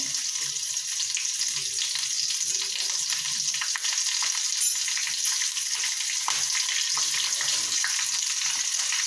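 Steady, loud sizzling and crackling of chilli pieces frying in hot tempering oil, a dense continuous hiss with no voices.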